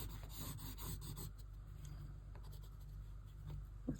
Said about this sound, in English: this pencil feels very bendy